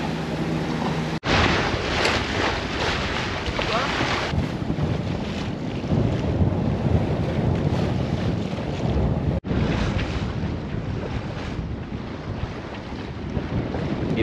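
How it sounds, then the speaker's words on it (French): A speedboat engine roars steadily at full speed over rushing water and wind buffeting the microphone, loud and close, as the fast craft passes alongside near Puerto de la Selva, Spain. "j'ai une vedette qui m'arrive plein de balles sur le côté"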